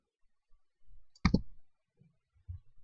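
A single crisp mouse click on a game launcher button, close and isolated, with a few faint soft taps around it in an otherwise quiet room.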